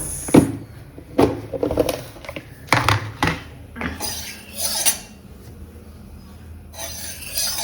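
A metal utensil stirs taro leaf curry in a pot, giving close, irregular scraping and clinking strokes in bursts, moderately loud with no talking.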